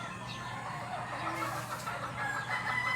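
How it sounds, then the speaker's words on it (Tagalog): Chickens clucking with a rooster crowing, a busy, continuous farmyard din of overlapping calls at moderate distance with no voices. "Ang ingay lang ng mga manok ko"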